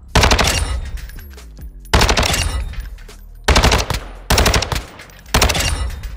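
An HCR56 firing in Call of Duty MW2: five loud, close bursts of rapid automatic fire, each a second or so long and separated by short gaps, with metallic tails and casings ringing after the first bursts.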